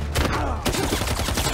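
Paparazzi firing guns in Marvel's Spider-Man 2, a dense rattling fusillade of rapid shots that carries on throughout with a brief gap midway, loud and close over game ambience.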